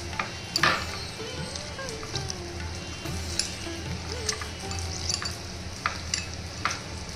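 A tangy tamarind and onion salad gets worked together with salt by hand, giving close, soft wet squelching and rustling with a few sharper clicks of a bowl, steady throughout.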